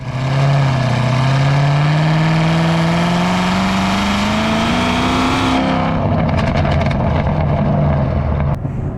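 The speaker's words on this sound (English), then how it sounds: "Then you get the pops." A Chevrolet Corvette ZR1 V8 revs loud and close in a long, rising, steady drone, then lifts off into a burst of crackling exhaust pops and burbles.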